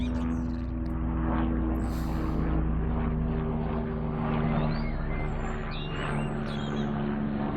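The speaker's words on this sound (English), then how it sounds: "Now here comes the helicopter." A military helicopter passes overhead as a steady, low droning rotor rumble that holds fairly even and continuous throughout, with faint birdsong over the top.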